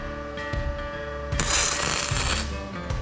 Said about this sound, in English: There's a 1-second tack.